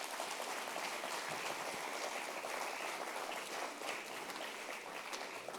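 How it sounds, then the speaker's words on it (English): Audience applause at a school ceremony marking the 150th birth anniversary of Mahatma Gandhi, a steady, fairly faint wash of many hands clapping that continues evenly throughout. "Your school really deserves a round of applause."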